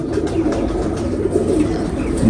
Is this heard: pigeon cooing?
yes